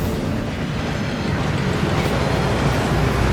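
A waterfall rushing in the Hogwarts Legacy video game: a loud, dense, unbroken roar of falling water that fills the whole short stretch with no pauses.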